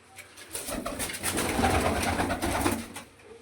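Pigeons coo steadily at close range, a bird-keeper's kabootar flock, their soft throaty calls overlapping in a dense murmur with no talking.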